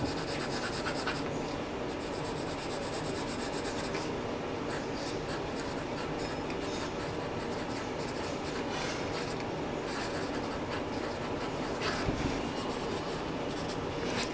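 A fountain pen nib scratches and rubs across a notebook page in a continuous close, dry, papery scratching that runs throughout, with small pauses and strokes.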